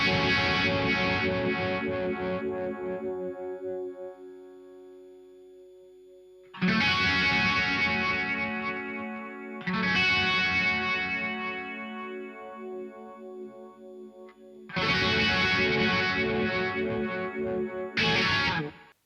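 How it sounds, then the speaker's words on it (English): Electric guitar run through a TC Viscous Vibe pedal, switching between Univibe and chorus modes, playing loud sustained distorted chords in phrases separated by short gaps, with a swirling modulated tone and no voices. "So now we can compare the Univibe to a chorus on the exact same pedal."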